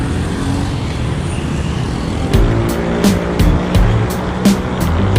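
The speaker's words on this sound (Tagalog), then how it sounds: "Medyo traffic na rito." Road traffic passing during a group bicycle ride near Bicutan, a steady broadband roar of car engines and tires with a cluster of sharp clicks and knocks rising in the second half, fairly close and loud.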